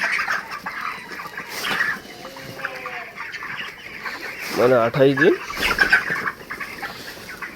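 A flock of four-week-old broiler chickens on a poultry farm clucks steadily nearby, with one louder, drawn-out call midway, while someone talks over them.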